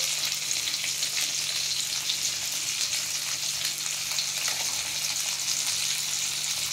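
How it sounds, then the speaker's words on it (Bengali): Fish and eggplant fry in hot spiced oil, a steady, close, continuous sizzle and crackle with no pauses and no voices. "টেস্টি টেস্টি বেগুন ভাজা, মাছ ভাজা।"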